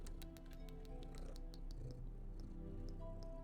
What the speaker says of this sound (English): she's purring pretty loud right now.